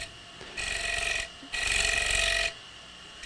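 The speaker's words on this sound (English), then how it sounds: "We're going to use a round nose scraper to do this cove" A round nose scraper cuts a cove in wood on a lathe in two bursts of scraping, hissing shaving noise with a steady machine hum between them.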